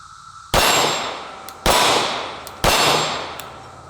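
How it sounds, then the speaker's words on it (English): Three sharp pistol shots from a compact concealed-carry handgun, such as a Smith & Wesson Shield Plus or Sig P365, spaced about a second apart, each a loud crack with a short ringing tail, close by and with no talk. "let's shoot a couple rounds out of this"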